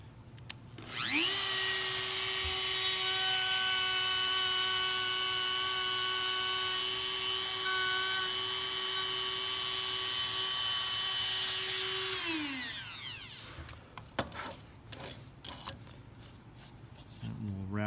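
A power tool cuts wood for a practice rosette inlay, running as a steady, loud, high whine for about twelve seconds before winding down, followed by a few small clicks and knocks.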